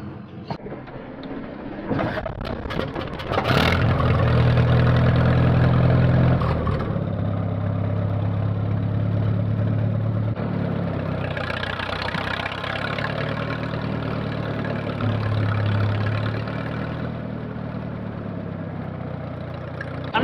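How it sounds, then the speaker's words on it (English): A Minneapolis Moline tractor engine runs steadily at a low, throbbing idle, loud and close, with a few changes in pitch as it settles. "the sound of this Minneapolis Moline, it's pretty awesome"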